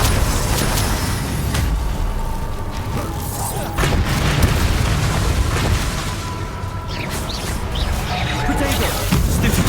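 Spell explosions in the Hogwarts Legacy video game boom and crash repeatedly against rumbling combat noise, the sharp bursts landing over a dense, loud background with a voice heard at times.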